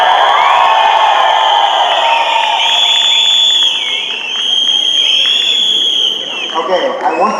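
A loud, close indoor audience cheers and whoops at a staff event, a sustained wall of voices and high shouts with a brief dip before swelling again.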